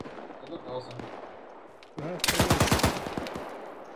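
Rapid gunfire bursts out in the video game Operation Afghanka, a loud rattling volley of closely spaced shots that follows a quieter stretch with a voice speaking and scattered faint sounds.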